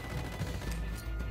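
Submachine gun fire in the tactical shooter Ghost Recon Wildlands, a short burst of rapid cracking shots over low game rumble, close and fairly loud.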